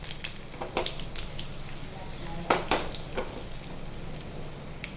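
Curry leaves, asafoetida, cumin and red chilli hitting hot oil for a tempering, giving a continuous sizzle punctuated by sharp crackling pops and spatters, close up with no talking.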